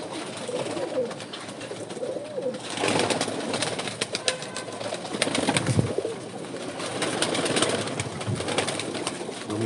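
Breeder pigeons coo in a loft during moulting season, low soft calls repeating steadily through the whole stretch amid a busy background with occasional flutters.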